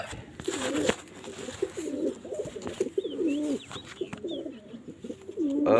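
Domestic pigeons cooing close by in repeated throaty, rolling calls, several overlapping phrases in a row, with occasional light chirps and faint knocks in the background.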